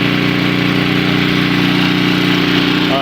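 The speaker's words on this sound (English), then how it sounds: "I think that the engine is ready to run smoothly" A snowblower engine runs steadily after the choke is taken off, a loud, close, even drone with a low throbbing pulse and no talking.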